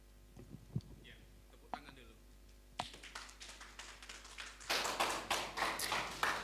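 A church congregation claps, starting with a few scattered taps and building into fuller, uneven rounds of applause that stay fairly soft and distant, with faint murmuring voices underneath.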